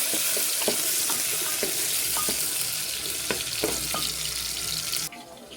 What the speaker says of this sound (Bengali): এবার পেঁয়াজটা লাল লাল করে ভেজে নেবো।